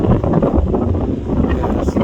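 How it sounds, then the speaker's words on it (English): Strong, freezing wind blows outdoors where a boy rides a bike, buffeting the microphone with loud, continuous gusty rumble through the whole stretch while a voice talks underneath. "Yeah, it's a terrible wind and it's freezing out here."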